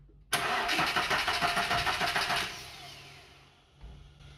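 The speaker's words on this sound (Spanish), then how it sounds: "lo que vamos a hacer es darle marcha a nuestro motor" A car engine cranks over on the starter during a cylinder compression test, a loud rhythmic chugging of about four quick turns that stops abruptly, then fades into a quiet hum with a small thump near the end.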